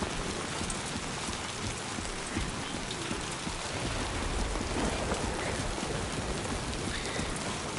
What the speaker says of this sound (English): Given that it's raining,